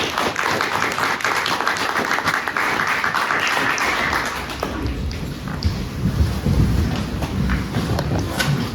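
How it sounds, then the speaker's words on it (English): An audience at a literary talk applauds guest Daniel Mulhall, a dense, continuous wash of many hands clapping that stays loud and steady throughout, with no speech over it. "I'd like to give him a round of applause."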